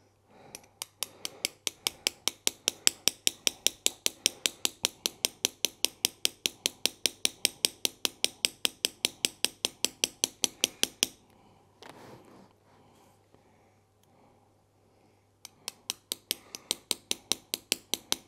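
A hammer drives a V-chisel along a scribed line to engrave metal, producing a long, fast, even run of sharp metallic taps, then a short pause with faint handling noise before the rapid tapping resumes, close and alone.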